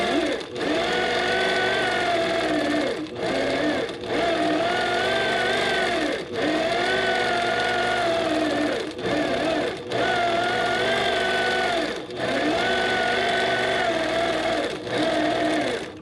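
A sewing machine fitted with a couching foot stitching yarn down: a steady, close, whirring motor run with fast needle clatter, stopping briefly several times before starting again, with no talking.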